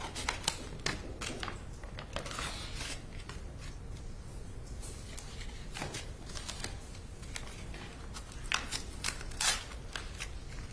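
Scissors snipping and rustling through evidence packaging in a courtroom during a murder trial, a string of sharp irregular cuts and crinkles, close and fairly quiet, with no talking.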